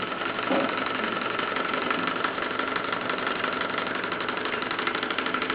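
A Bowman M167 model steam engine runs steadily up close, driving a simple saw arrangement, with a continuous mechanical chugging and rattling hum that stays even and loud throughout, with no talk.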